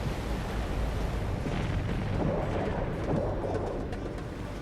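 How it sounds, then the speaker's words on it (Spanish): A deep, continuous roaring rumble of a massive volcanic eruption blast that shatters the mountain, loud and sustained with no pauses. "La erupción destrozó la montaña."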